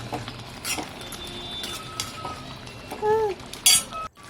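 Spoon clinks and scrapes against a cooking pot while chicken masala gravy is stirred, light scattered metallic taps, a brief bright clink near the end, faint background sounds, no speech.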